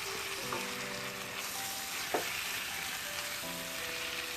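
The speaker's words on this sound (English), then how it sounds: "Saute this tomato for roughly 4 minutes." Tomatoes with onion sauteing in a pan for a restaurant-style mushroom biryani, a steady soft sizzle throughout with faint scraping and a few light clinks of a utensil against the pan.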